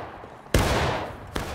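Musket volley in War of Rights, a line of soldiers firing: one sharp, loud crashing blast with a rolling tail, followed by a second smaller report close behind.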